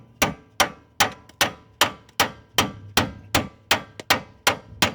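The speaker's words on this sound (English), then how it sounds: "So I just take a small sledgehammer and a tool and reach up in there and" A small sledgehammer strikes a tool against a Dodge Durango's original idler arm again and again, about twelve sharp metallic clanks at a steady, brisk rhythm, close and loud with a short ring after each blow.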